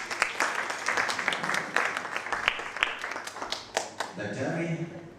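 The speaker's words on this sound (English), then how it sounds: "with a big round of applause" Scattered applause from a small audience, uneven claps rising and falling, with a voice speaking over it near the end.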